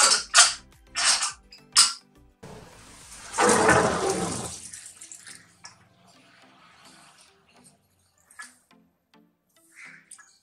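Water is poured off peas boiled in a pressure cooker, a brief close gush lasting about two seconds, after a few sharp clatters and followed by faint drips and quiet handling.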